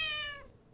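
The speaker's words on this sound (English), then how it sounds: "Maybe I can meow over here." A single short meow from a cat in The Cat Lady video game, clear and tonal, trailing off quickly into near silence.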